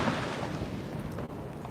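Fireworks booming across New York City on the Fourth of July, heard as a continuous low rumble of distant blasts with one sharper crack partway through, with no voices.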